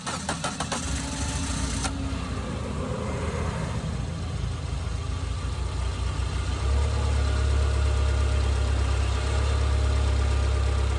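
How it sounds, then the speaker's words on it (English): A car engine starts and settles into a steady idle up close, a continuous low rumble with a slight knock, running during a power steering fluid flush. "you start the car and you turn the steering wheel around a bunch of times to circulate that new"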